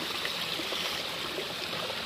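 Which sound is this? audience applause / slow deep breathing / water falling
water falling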